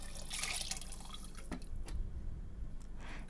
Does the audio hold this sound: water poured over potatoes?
yes